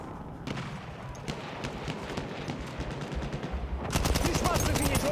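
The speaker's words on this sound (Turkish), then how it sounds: "Orada bir makinalı tüfek var." A machine gun in Battlefield 1 fires fast, rattling bursts that keep going over continuous battlefield noise. The gun grows much louder and closer toward the end.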